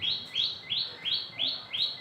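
Small birds chirp outdoors in a rapid, regular series of about six high, rising tweets, moderately close over faint background noise, with no one talking.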